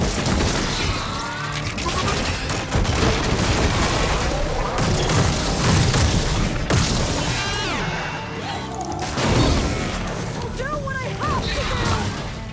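Acid arrows strike a hostile machine in Horizon Forbidden West amid dense, loud combat: repeated cracking impacts, bursts and whooshes pile up continuously with game sounds layered throughout.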